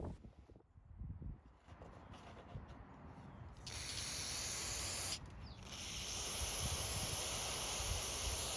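Aerosol cleaner hisses in sustained bursts onto the carburetor of an Echo string trimmer, close and fairly quiet, with a short pause midway before the spray resumes steadily.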